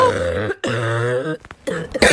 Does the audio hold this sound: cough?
yes